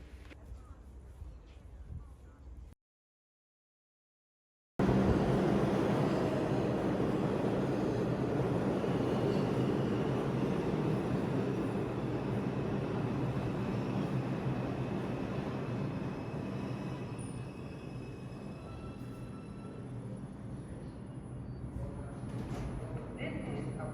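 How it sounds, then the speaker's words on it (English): A New York subway 2 train bound for Flatbush Avenue rides along with a loud, steady rumble and roar. Quieter ambience comes first, then a brief silence, then the roar continues unbroken. "This is a Brooklyn College Flatbush Avenue bound 2 train."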